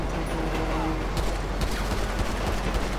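Rapid bursts of gunfire in Grand Theft Auto V crackle over a dense, noisy background, with sharp shots clustered in quick succession.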